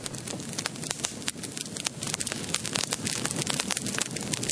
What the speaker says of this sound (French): Les flamèches se mettent à crépiter.